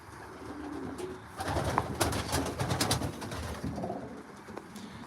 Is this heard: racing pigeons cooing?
yes